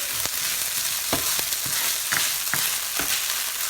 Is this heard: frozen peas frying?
yes